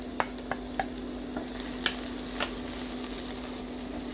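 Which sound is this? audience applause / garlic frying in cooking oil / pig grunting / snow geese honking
garlic frying in cooking oil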